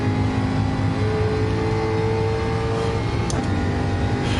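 A racing car engine in Gran Turismo 7 hums and drones steadily throughout, loud and close, with a brief higher whine near the end and no talk.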